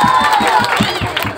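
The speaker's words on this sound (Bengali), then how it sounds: "সকলে একটা করতালি দেন।" Audience clapping and cheering for a kindergarten child at a school dress-up and acting event, a dense crowd wash with shouts over the applause.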